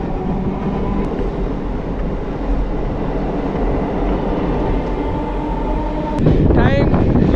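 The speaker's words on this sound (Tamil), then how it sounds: "அடுத்ததாக ட்ரெயின் உள்ள என்ட்ரு ஆகுறது தரமணி ரயில்வே ஸ்டேஷன்" A suburban MRTS train rumbles steadily with broad low roar and faint squeals, then a louder burst of clattering and braking noise near the end as it enters Taramani station in Chennai.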